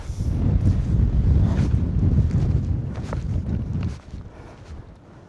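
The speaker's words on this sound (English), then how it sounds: "Quite windy." Strong wind roars and buffets the microphone in a low, gusty rumble, dropping off sharply near the end to a quieter blow.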